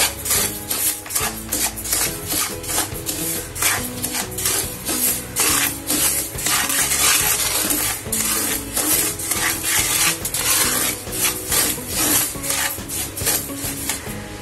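Barnyard millet (bhagar) dry-roasting in a pan, a continuous loud gritty rasp of grains being stirred and scraped, rhythmic and close throughout.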